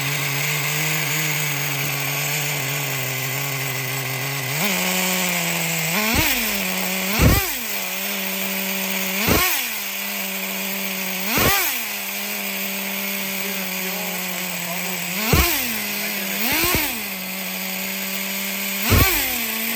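A rebuilt Traxxas Nitro 4-Tec 3.3 RC car's nitro engine idles with a steady buzzing drone, rising slightly in pitch partway through as the idle is raised, punctuated by regular revving blips every couple of seconds, close and loud with no talking.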